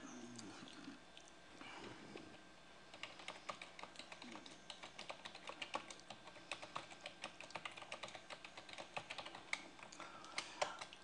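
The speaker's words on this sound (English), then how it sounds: "I want to type it in" A computer keyboard typed on during a live studio chat, a string of quiet, irregular key clicks over a low room hum, nearby but soft.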